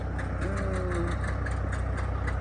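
A tractor engine works in a potato field, a steady rhythmic low idle chug running throughout at moderate distance, with a brief faint tonal whine near the start.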